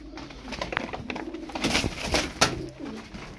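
Tumbler pigeons coo softly in a loft, low, murmuring calls mixed with wing flutters and small handling noises, fairly faint and close by.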